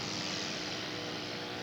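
Scale model propeller airplane doing a touch and go at a scale aircraft show, its engine holding a steady, fairly close droning buzz throughout, with no talking.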